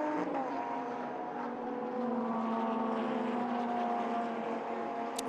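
A Lamborghini Super Trofeo race car at Silverstone fires up after a spin and accelerates away, its engine note holding a sustained rising drone at moderate distance with a faint click near the end.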